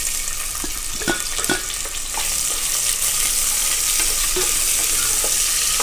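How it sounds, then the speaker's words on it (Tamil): Spices splutter and onions fry in hot oil for a mutton kulambu, making a loud, steady, close-up sizzle. Faint pops and light stirring scrapes sit within the constant hiss. "பொரிய ஆரம்பிச்சிருச்சு பாருங்கள் இந்த மாதிரி பொரிஞ்சோடனே நம்ம வெங்காயத்தெல்லாம் ஆட் பண்ணிடணுங்க"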